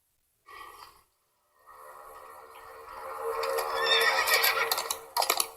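A horse gives a loud, close whinny that starts with a short snort, then rises into a long, wavering neigh and breaks off into a few shaky bursts at the end.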